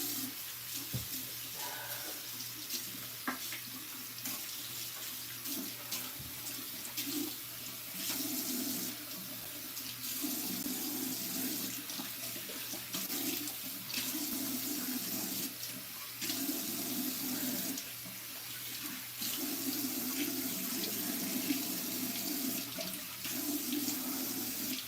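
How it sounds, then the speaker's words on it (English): Water runs steadily from a bathroom tap into a sink during a nighttime face rinse, a continuous splashing stream interrupted by brief hand splashes, fairly close and without talk. "I'm gonna rinse and wash my face"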